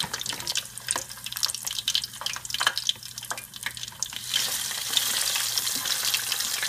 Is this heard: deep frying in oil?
yes